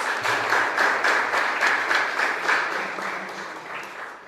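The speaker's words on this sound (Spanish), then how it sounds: "Un fuerte aplauso para ellos." A church congregation at a Mass in a chapel gives a men's choir a sustained round of applause, dense rhythmic clapping that holds steady and eases slightly toward the end.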